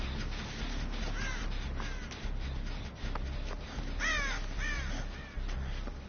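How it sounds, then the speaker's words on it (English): Crows caw repeatedly over a steady, droning ambient bed in Dead by Daylight, with several harsh calls in clusters, some louder and nearer than others. "Why are there so many crows, bro?"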